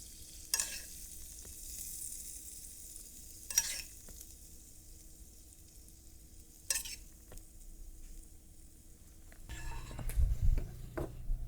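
Lemon butter sauce is spooned over fish frying in a hot pan for fish à la meunière, a quiet low sizzle broken by a few sharp spoon clinks, swelling into louder bubbling near the end.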